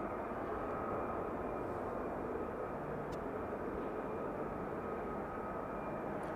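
Military jet aircraft flying in at night at RAF Lakenheath, a faint, steady distant engine roar that holds constant without rising or fading.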